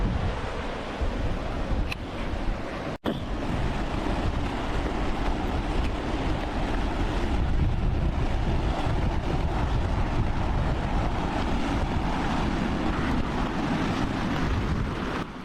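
Ocean surf rolls steadily onto the shore at Treasure Beach, a broad continuous wash of waves mixed with wind buffeting the microphone, with one brief sharp knock early on and no talk.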